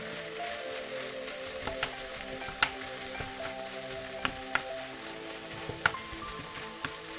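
Ground ginger and garlic frying in a pot for a one-pot lentil pasta with chicken, giving a steady quiet sizzle with a few sharp clicks of stirring, close and alone with no talk.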